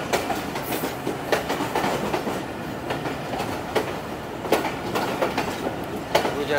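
A passenger train rolls past Gujar Khan station without stopping, with a constant rumble and a steady clickety-clack of wheels, heard from close by inside an AC Standard coach, with no talking.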